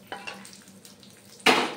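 Hot tempering (tadka) hits curd rice with a sudden loud sizzling burst near the end, after a few soft clinks and stirring sounds of the pan and spoon, with no talking.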